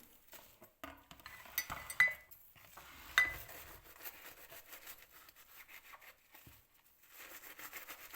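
Quiet clinks and scrapes of a metal spoon being handled, with two brighter rings of metal on metal amid soft rubbing sounds.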